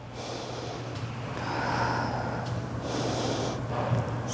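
Slow, audible breaths drawn in and let out during an aerial yoga pose in a standing strength and stretch class, soft and close, with a low steady hum underneath and no talking.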